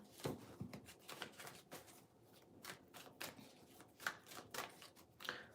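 A deck of cards is riffled and shuffled up close and quietly, in a string of soft, papery bursts and flicks with short pauses between them.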